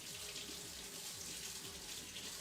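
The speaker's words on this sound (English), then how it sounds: "I'm going to wash off my hands." Tap water runs steadily into a kitchen sink during hand washing while baking cinnamon rolls, a continuous soft hiss with faint splashing throughout, no voices.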